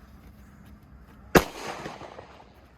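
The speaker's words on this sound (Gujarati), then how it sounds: "આ રીતે મિર્ચી ફોડવાના છે આપણે ખૂતળી ફોડવું એમ નહીં" Mirchi firecrackers set off outdoors during New Year festivities: one sharp, loud bang bursts out after a quiet stretch, then a brief crackling rattle fades away.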